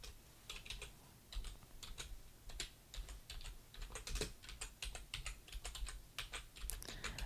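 Someone types on a computer keyboard late at night, with quiet clicks coming in irregular bursts and short pauses, close by and soft, with no voices.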